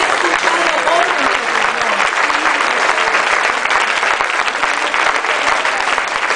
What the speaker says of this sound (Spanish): Yo pido un fuerte aplauso para el Señor.